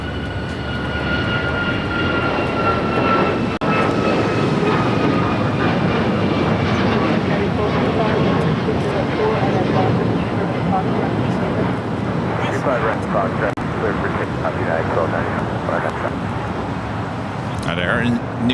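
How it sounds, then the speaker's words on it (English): An airliner takes off at LAX, its broad jet roar swelling and holding under a commentator's voice, with a fading tonal whine early on. "That flight taking off, heading to Boston."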